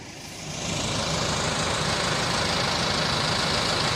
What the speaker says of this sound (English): I was just idling as I pulled that tree out of that ravine